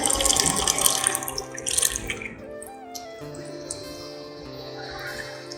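Thick tamarind pulp poured into a pan of crab curry, a wet dripping and splashing that is busiest early on and then settles into a quieter, steady trickle with no talking.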